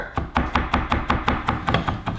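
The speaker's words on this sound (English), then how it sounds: "We want to slice it, dice it, and then we're gonna hache it, which means to finely chop it." A knife finely chops onion on a cutting board, about ten crisp, evenly spaced taps in quick rhythm, close and distinct with no talk.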